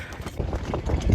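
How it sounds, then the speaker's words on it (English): Gusty wind buffets the microphone in low, uneven rumbling bursts on the coast at Salthouse, with a faint wash of sea water in the background. "But it is so windy."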